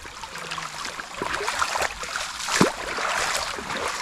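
Water from an overflowing well runs through forest land, a continuous splashing, gurgling flow heard close, with a few louder spurts rising over the steady rush.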